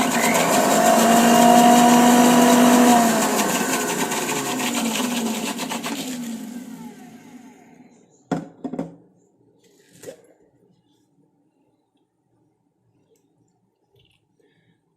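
An electric mixer grinder blends flowers into a blue paste, a loud steady whirring motor that runs for several seconds and then winds down, followed by a few knocks of the jar.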